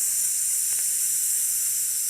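A steady, continuous hiss like fizzing bubbles, with a brief pop-like flicker partway through, voiced as an imitation of soda fizzing in a glass.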